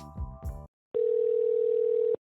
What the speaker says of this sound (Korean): 테슬라에 전화를 걸었습니다